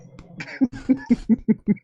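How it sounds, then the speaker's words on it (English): A short burst of rhythmic coughing, several quick hacks in a row, close and moderately loud. "Sunset Sherbet got me coughing too"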